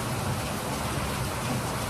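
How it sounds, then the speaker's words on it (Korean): Steady rain falls in a dense, even hiss of droplets with no breaks, close and moderately loud, and no voices are present. "비가 오는데"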